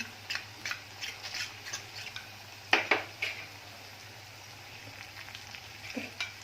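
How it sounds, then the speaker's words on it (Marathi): Cornflour paste is stirred into a sizzling tempering for crispy coriander bhaji, with a soft fry hiss under frequent spoon clinks and scrapes against the pan, one sharper metallic knock midway. "कॉर्नफ्लावरची पेस्ट केलेली थोडंसं ढवळून घ्यायचं"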